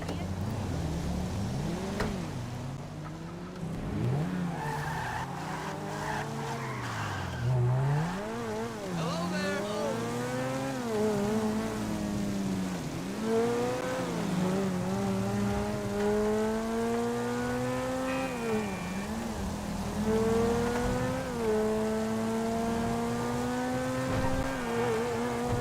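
A supercar in GTA 5 Online drives along, its engine rising and falling in pitch as it revs through gears, a continuous mid-level drone with someone talking over it.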